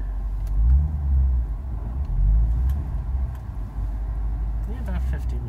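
Car cruising along a road between Kendall Square near Boston and Concord, Massachusetts, a steady low engine and road rumble heard from inside the cabin, with someone talking over it throughout.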